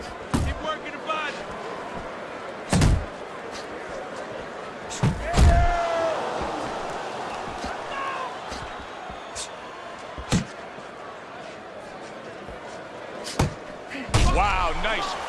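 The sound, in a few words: boxing punches landing, from video game Fight Night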